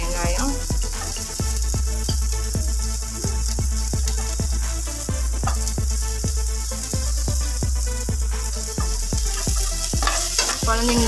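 Garlic, dried red chili and small shallots fry in a hot pan for a coriander leaf chutney, a steady close sizzle broken by frequent rhythmic stirring scrapes throughout.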